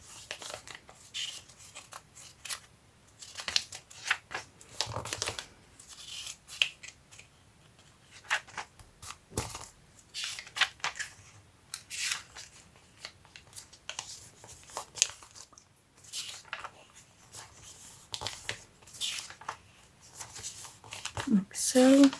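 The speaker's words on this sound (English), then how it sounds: "what I always do is go over the papers and really fold them again" Paper sheets being folded and creased by hand, scattered crisp rustles, crinkles and sharp pressing swipes at close range, mixed with a person talking throughout.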